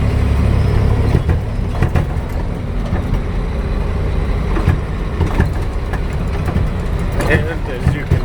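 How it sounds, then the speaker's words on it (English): A 7 ton MTVR military truck drives down a dirt road with its door open, its heavy engine rumbling loud and close under rattling cab noise while someone talks over it. "as you can hear, it's a little bit noisy. I think my door's open. We're driving down a dirt road."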